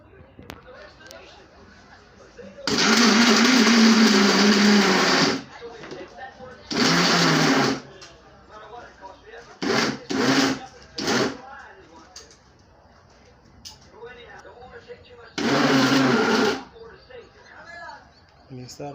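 A Robot Magic Blender 5500W two-in-one runs in loud bursts: a long roar of several seconds, a shorter run, a few quick pulses and a final burst, separated by quiet gaps.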